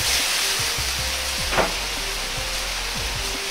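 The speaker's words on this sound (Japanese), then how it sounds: "野菜全体に油が行き渡ったら、紹興酒または酒を大さじ1入れます。" Shaoxing wine is splashed into a hot wok of stir-fried shredded pork and napa cabbage, setting off a loud, steady sizzle that holds for several seconds with light stirring clatter and no voices.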